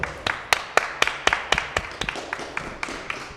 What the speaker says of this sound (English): Yes, clap that up, people.